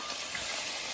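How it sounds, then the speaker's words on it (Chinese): Sichuan peppercorns and ginger sizzle in hot oil in a wok, a steady dense frying hiss that runs throughout without any talking. "开始炒了，我妈一般把花椒、生姜、皮子放进去，把那香味给它炸出来"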